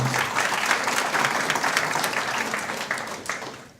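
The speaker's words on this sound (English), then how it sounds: "give Dave a round of applause coming in" A crowd applauds for Dave Geevey at a school alumni wall of fame induction, sustained clapping that stays loud and full before easing off slightly at the end.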